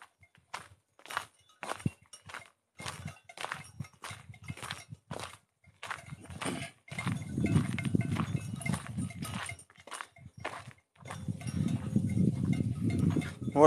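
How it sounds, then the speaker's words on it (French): Flock of ewes on a walk in the Lozère countryside, with steady hoof clatter and scuffling on the ground, bells and movement, close by and fairly quiet, with no talk over it. "là il y a un troupeau de brebis."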